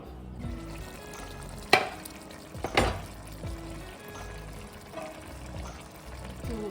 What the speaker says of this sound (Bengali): তো সামান্য একটু পানি অ্যাড করে দিচ্ছি